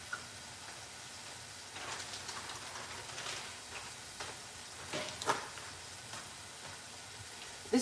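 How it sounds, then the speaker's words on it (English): French fries frying in hot oil in a home kitchen, a faint continuous sizzle with small crackling pops scattered throughout, no talking. "we're going to continue frying our French fries"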